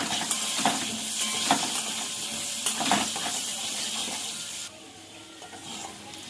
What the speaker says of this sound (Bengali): কড়াইতে সর্ষের তেল দেবো, আলুগুলো ভেজে নেব